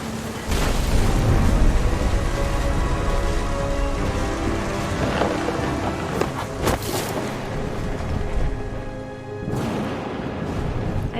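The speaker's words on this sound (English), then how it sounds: "The thunder sounded much too close and full of angry power" Steady heavy rain with low rumbling thunder in What Remains of Edith Finch, a dense continuous downpour broken by a few sharper cracks and rolling booms.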